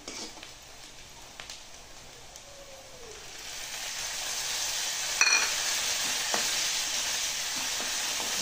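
Onions and tomato puree sizzle quietly in a pan while being stirred, with a soft steady frying hiss and occasional scraping clinks of the spoon, no voices.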